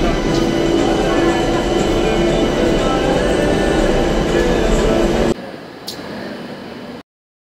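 A metro train rumbles loudly and steadily as it rides along, then the noise suddenly drops to a quieter hum before cutting to silence.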